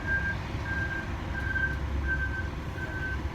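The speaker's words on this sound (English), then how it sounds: "It's a utility truck that's making that beeping." Utility truck reversing alarm beeping at a steady, evenly spaced rhythm, five tones in a row, heard from some distance over a low, continuous engine and traffic rumble.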